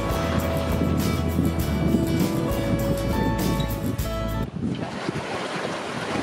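Sea water sloshes and waves wash around a boat sailing at sea between Fiji and Vanuatu, with gusty wind buffeting close by in a steady rushing roar that briefly drops before continuing.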